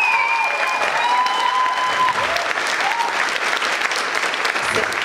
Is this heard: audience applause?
yes